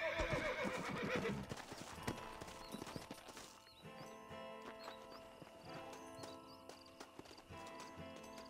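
A horse in the Red Dead Redemption video game whinnies loudly near the start, followed by steady clip-clopping hooves that slow and continue alone through the rest, with no voices over them.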